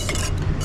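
A ceviche dressing of black pepper and salt is stirred briskly in a bowl, giving a short, close burst of scraping and light clinking with no talk.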